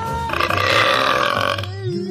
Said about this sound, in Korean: 정말 엄청난 트림 소리인데요?